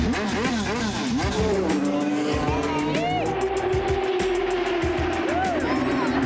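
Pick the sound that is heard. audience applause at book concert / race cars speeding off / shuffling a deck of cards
race cars speeding off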